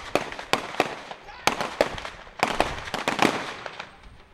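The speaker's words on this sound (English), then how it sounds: "Then, gunfire." Sharp gunshots crack out in an irregular volley during a shootout between police officers and a suspect, several loud reports followed by a denser cluster of fainter pops, with a voice faintly underneath.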